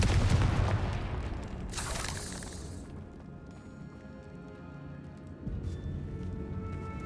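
A Confringo fire spell from Hogwarts Legacy blasts with a loud booming explosion at the start, then a bright crackling burst as the echo fades into a low rumble, with another thud near the end.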